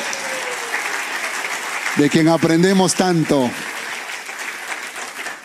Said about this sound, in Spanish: denle un fuerte aplauso una vez más al Todopoderoso